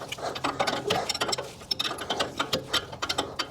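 A vintage Craftsman wrench ratchets a 7/8 control arm bolt on a 4Runner, a rapid, close run of sharp metallic clicks repeating steadily through the whole stretch with no talk.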